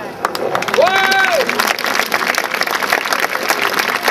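Audience applause from a crowd at a Gaulish reenactment presentation, steady clapping with background chatter and a brief whistle-like tone early on, continuing evenly throughout.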